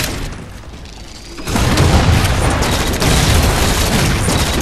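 A rail gun fires in a Halo 4 online match, a sudden heavy boom about a second and a half in that gives way to a loud, sustained roaring rumble of gunfire and blasts.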